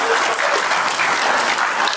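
A crowd claps at a religious memorial gathering, dense steady applause from many hands, loud and close, with no speech over it.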